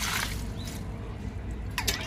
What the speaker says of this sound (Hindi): तो ये डाल दिया मैंने अच्छे से पानी।